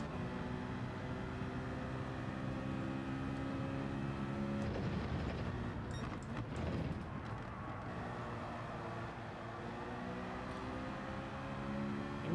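Race cars in Gran Turismo 7 drone with a steady engine hum, a sustained tonal whine that shifts pitch midway as gears change and tires scuff, moderately quiet and without talking.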